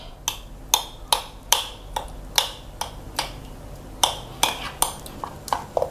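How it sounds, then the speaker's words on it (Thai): A metal spoon knocks and scrapes against a bowl while crushing and mashing ingredients for a salted egg sauce, giving a steady series of sharp, close clinks about twice a second. "ช้อนบี้ๆบดๆให้ละเอียด"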